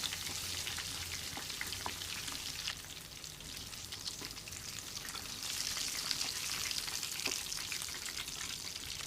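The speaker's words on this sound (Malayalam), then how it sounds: "ഇടയ്ക്കിടയ്ക്ക് തിരിച്ചിട്ട് കൊടുക്കണം രണ്ട് സൈഡും നന്നായി ഫ്രൈ ആയി വരണം" Quail marinated Kerala style and shallow fried in oil, giving a steady, close sizzle and crackle of hot oil that runs the whole time with no talk.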